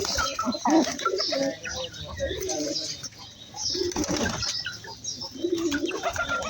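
A Sirazi pigeon coos softly among other birdsong, with a person talking over it for much of the time.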